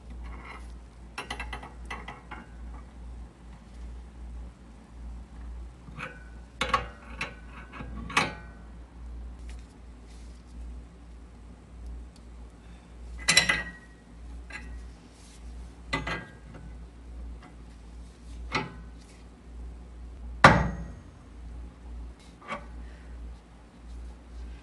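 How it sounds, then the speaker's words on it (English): Sparse metallic clicks and knocks at irregular intervals over a low steady hum as a 1-inch wrench slowly turns a bolt to separate a ball joint on an Integra knuckle, close and fairly quiet with no talk. "I'm going to use a 1-inch wrench to slowly turn this bolt right here so that I can separate the ball joint"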